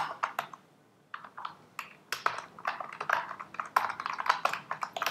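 Typing on a computer keyboard while coding a Wagtail blog template: close, quiet bursts of rapid key clicks with brief pauses between them, with no speech.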